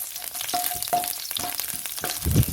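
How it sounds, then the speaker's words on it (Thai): Oil sizzles steadily in a pan as garlic and coriander root are stir-fried, with light scraping of stirring, a few soft clinks, and a louder clatter near the end; no talking. "ใส่น้ำมันเล็กน้อยแล้วก็ตามด้วยรากผักชีกับกระเทียมครับ ผัดให้หอมก่อนนะครับ"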